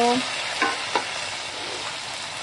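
Soft frying sizzle of onions and tomatoes in oil in a pan, with a few brief scraping stirs of a spatula near the start.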